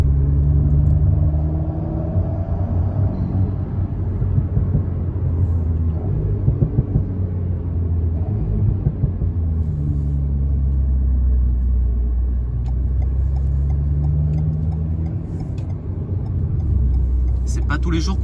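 Alpine A110 sports car on a road drive, its engine a steady low rumble throughout with mild rises in revs, heard from inside the cabin while people talk over it.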